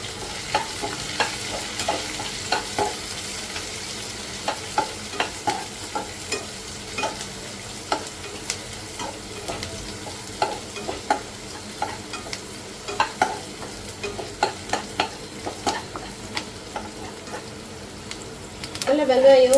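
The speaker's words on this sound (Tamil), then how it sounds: "நல்லா வெங்காயம் பூண்டு எல்லாம் கொஞ்சம் வந்து கலர் சேஞ்ச் ஆகிட்டு வரட்டும். அது வரைக்கும் நல்லா வதக்கிக்கோங்க." Shallots and garlic sautéing in hot oil for a Sankara fish curry, steady sizzle with repeated close spoon-stirring scrapes and clinks against the pan, louder bubbling at the end.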